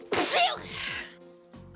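A video game character sneezes once, loud and close, with a sharp hissing burst that trails into a short voiced tail.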